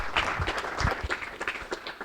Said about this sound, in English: please a round of applause for Tuomas from Nimble Devices